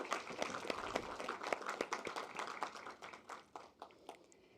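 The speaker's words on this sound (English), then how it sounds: "Let's give you all a round of applause as we get started for all of your hard work" A round of applause at a school board meeting, many hands clapping in a dense, even patter that thins out toward the end, heard faint and somewhat distant.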